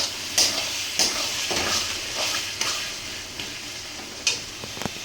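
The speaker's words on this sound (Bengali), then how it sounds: "এবার এটা একটু কষানো হোক" Spice paste sautéing in oil in a pan for a Bengali Bombay duck (loitta fish) curry, a steady close sizzle broken by several sharp scrapes and clinks of a spoon stirring, with no talk.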